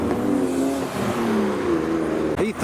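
Mazda MX-5 engines revving and accelerating at a Japanese car meet in Reading, a steady loud engine drone with rising and falling pitch sweeps, ending in a short sharp throttle blip.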